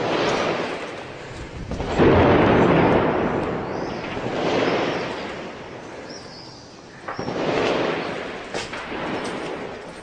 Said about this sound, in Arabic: قصف أحياء مدينة حمص بالمدفعية